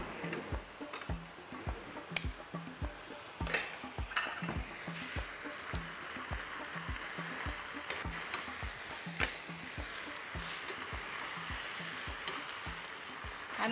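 Food frying in a pan over a high flame, a steady close sizzle with a regular ticking beat of the pan being tossed or stirred, loud and constant without any talk.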